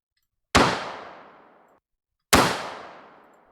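Two sharp gunshots ring out, spaced about two seconds apart, each a loud crack with a long fading tail into silence.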